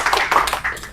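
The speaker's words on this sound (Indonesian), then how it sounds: "Ya, tepuk tangan untuk Alif, betul." A short burst of hand clapping from a group during an Indonesian teaching session, a quick cluster of claps lasting about a second, close and fairly loud.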